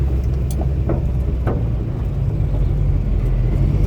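A 1942 Lincoln Continental with a manual gearbox runs steadily, its low engine rumble constant and close, with faint clicks and knocks on top and no talking.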